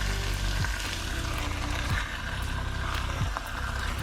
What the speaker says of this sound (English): So we're just going to let this brown on this side.